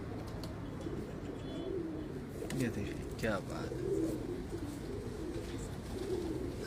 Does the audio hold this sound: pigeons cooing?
yes